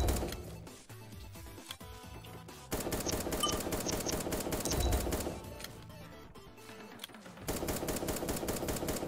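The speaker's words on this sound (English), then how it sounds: "Because I had the assault rifle again" Rapid assault rifle fire from the blocky online shooter voxiom.io rattles in steady bursts, partly buried under loud backing music throughout.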